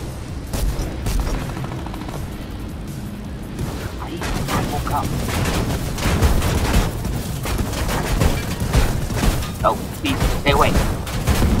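Gunfire from the video game Fortnite crackles in dense, rapid bursts, starting sparse and then growing into a busy, continuous volley of shots and impacts.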